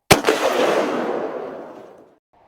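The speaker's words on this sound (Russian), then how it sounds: "В ответ на что прозвучал выстрел." A single gunshot sound effect: one loud, abrupt crack that rings out and fades through a long reverberant tail over about two seconds, heard alone.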